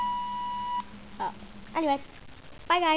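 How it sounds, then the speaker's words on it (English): A phone gives a steady electronic beep that ends abruptly. A voice speaks and sings in short bursts afterward. "Oh, that was the phone."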